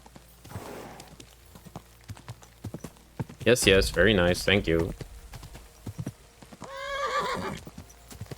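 Steady clip-clop of horse hooves with a neigh and a snorting whinny in the video game Kingdom Come: Deliverance II, while someone speaks briefly over them.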